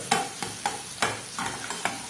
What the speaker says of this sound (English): You don't want your eggs to actually stick to the frying pan, so you want to just keep on stirring